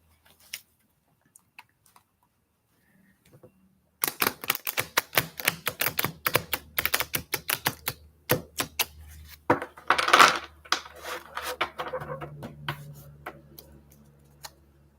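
Tarot cards are shuffled by hand up close: after about four seconds of near silence comes a dense run of quick riffling clicks and soft card flutters in uneven bursts, with no talking.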